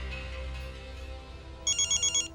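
An incoming call on a mobile phone, heard as a short run of bright, evenly pulsed electronic ringtone beeps that start abruptly near the end over a low background hum.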